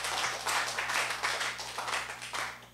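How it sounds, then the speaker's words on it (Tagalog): A church congregation applauds for the Lord during a sermon, with a brief burst of many hands clapping steadily and fairly close, no voices over it. "po palakpak para sa ating Panginoon"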